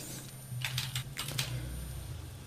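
Computer keyboard presses while working in CorelDRAW, including the plus key on the numeric keypad: a quick cluster of light clicks in the middle, soft and close over faint background hum.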